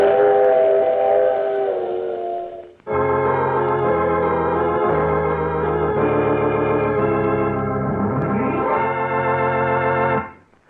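Steam train effect in an old-time radio mystery drama: a chuffing, rumbling locomotive with a long, sustained multi-tone whistle that bends in pitch, loud and continuous without talk, then cutting off at the end.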